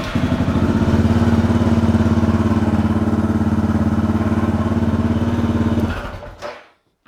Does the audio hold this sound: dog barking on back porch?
no